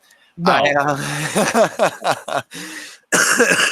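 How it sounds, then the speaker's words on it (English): A person nearby coughs repeatedly and clears their throat in short, harsh bursts, with a few voiced sounds between them. "I'm so sorry again for if I cough a couple of times during this"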